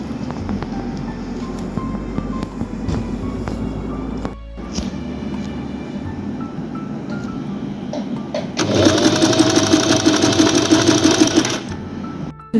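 A sewing machine stitches a buttonhole on a kaftan: rapid mechanical whirring in bursts with a brief pause, then a louder, faster run of stitching before it stops, close by without talking.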